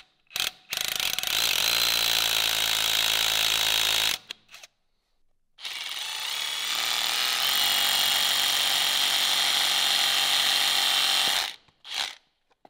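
A Bosch 12V cordless hammer drill runs in two long, loud bursts with a rapid rattling hammer action, separated by a short pause, then a brief final burst.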